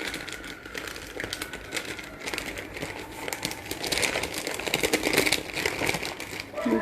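Baking paper crinkles and crackles steadily as a warm sponge roll cake made from cupcake mix is lifted and rolled, a close, continuous rustle that grows slightly louder toward the end.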